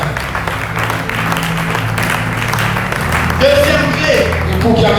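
A church congregation at a Sunday service applauds and cheers in steady, dense clapping that fills the room, with voices shouting and singing over it toward the end.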